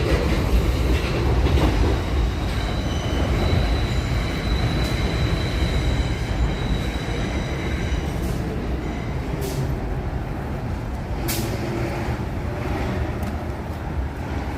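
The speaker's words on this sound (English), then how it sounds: "you hear the train is going to Manhattan right now." A subway train bound for Manhattan rumbles steadily and loudly throughout, with continuous rail noise and faint clickety-clack, close by and without speech.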